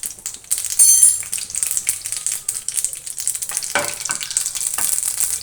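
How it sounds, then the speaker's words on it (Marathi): Black mustard seeds pop and crackle rapidly in hot oil on a lowered flame, a dense, close sizzle with sharp irregular bursts throughout. "आपली मोहरी तडतडली"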